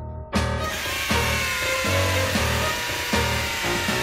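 A power drill grinds and whirs steadily, loud and close, with rough buzzing surges and brief shifts in pitch.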